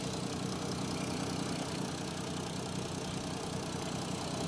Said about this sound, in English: It's a full Miltech non-resonated exhaust system, and it sounds absolutely mega.